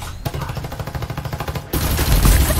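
Rapid automatic gunfire in a Farlight 84 squad match, fast rattling bursts followed by a louder dense barrage.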